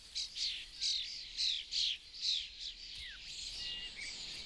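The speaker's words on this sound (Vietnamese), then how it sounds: "chim sáo không gặp khó khăn gì khi nuôi những con non ồn ào" Starlings in a spring garden with nestlings, a run of bright repeated chirps and twittering calls in quick bursts, fairly close, then softer scattered calls with no voices.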